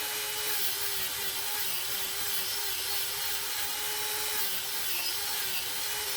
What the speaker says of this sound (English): I can sand through until I get an opening in that coat